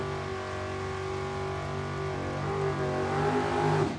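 A drag racing dragster at the Hangover Nationals drag race, its engine holding a loud steady droning roar that swells toward the end, heard alone.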